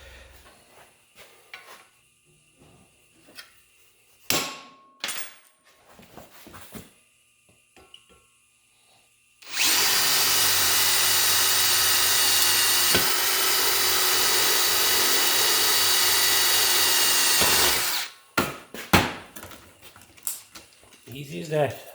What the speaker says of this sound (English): I just drilled two holes in it and drilled it out with a larger drill bit